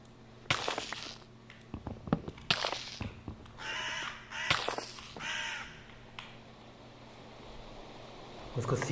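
Repeated raspy bird calls from Minecraft seagulls, several separate bursts spaced a second or so apart over a low steady game hum, fairly close and moderately loud.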